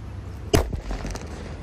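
A Colorful Thunder firecracker goes off in a single sharp, loud bang with a short rumbling tail, fairly close, over steady background noise.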